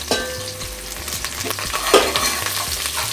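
Green chillies and curry leaves frying in oil in a pan with chana dal and urad dal: loud, continuous close sizzling and crackling, with spoon scrapes as it is stirred and no voices.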